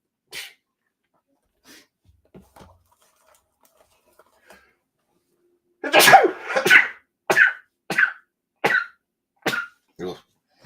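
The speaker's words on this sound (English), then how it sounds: "it's not a break until I sneeze my head off" A run of sharp, loud sneezes from a person in quick succession, about seven bursts fairly evenly spaced, after a quieter stretch with a few faint sounds.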